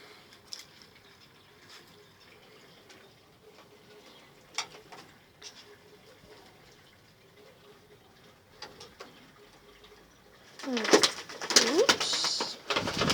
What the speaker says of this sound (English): My beautiful young birds.